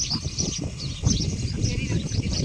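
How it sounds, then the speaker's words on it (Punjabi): Sparrows chirp in quick, scattered bursts outdoors around a jujube tree on a farm, several calls overlapping at moderate distance, with a low background rumble. "ਤੁਹਾਨੂੰ ਚਿੜੀਆਂ ਦੀ ਚਹਿਕ ਚਕਾਹਟ ਸੁਣਦੀ ਹੋਣੀ ਹੈ"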